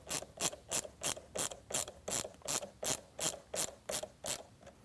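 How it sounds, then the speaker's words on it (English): A hand ratchet with an 8mm socket tightens cold air intake clamps, giving about a dozen even, rhythmic clicking strokes at close range, fairly quiet and without any talking. "we're going to use our 8mm socket to tighten these clamps."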